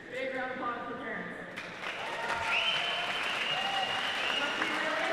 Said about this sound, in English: round of applause for parents.